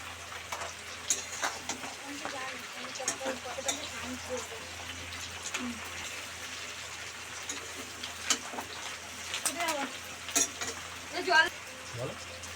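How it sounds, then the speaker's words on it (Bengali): Tomatoes with green chillies fry in a pan for chicken chilli, giving a soft, steady sizzle with occasional stirring noises while someone talks over it. "দিয়েছি টমেটো, ভালো করে ভেজে নেবো"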